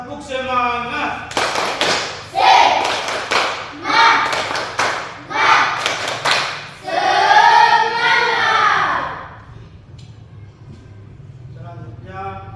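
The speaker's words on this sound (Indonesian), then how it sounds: "Tepuk semangat." A classroom doing a rhythmic spirit clap, bursts of sharp group claps in patterned beats alternating with chanted voices, close and lively, ending in quiet.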